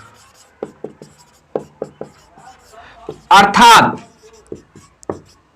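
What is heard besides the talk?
writing notes by hand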